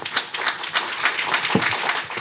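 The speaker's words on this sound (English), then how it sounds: "How about a big round of applause for Brian from Live and List?" An audience at a tech meetup applauds, a steady, moderately loud patter of many hands clapping in an indoor room.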